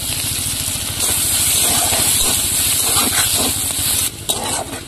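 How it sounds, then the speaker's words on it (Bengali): Chopped onion and crushed garlic fry in oil in a wok over a clay stove, giving a continuous close sizzle with scraping stir sounds, which briefly dips near the end. "পেঁয়াজ রসুনটা ভাজা হয়ে গেছে,"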